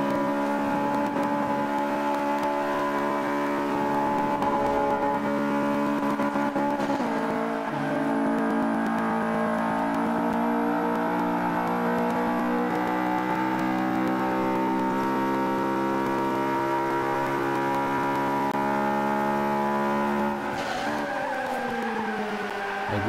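A car's engine in Forza Motorsport 5 revs high and sustained with layered harmonic whine, holding steady before the pitch drops off near the end, with tire squeal mixed in.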